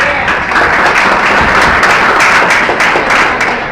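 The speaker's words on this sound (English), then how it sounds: "Please give them a big round of applause." An audience at a housing event in Northern Manhattan gives a big round of applause, dense steady clapping from many hands, loud and sustained throughout with no talk.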